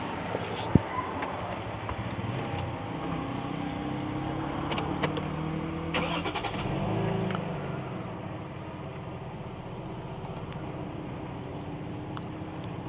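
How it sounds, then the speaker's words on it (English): A classic Toyota Crown engine ticks over at a very quiet, smooth idle, heard close with the car door open, a low steady hum with a few faint clicks and no talking. "let's quickly start up the engine and listen to the car"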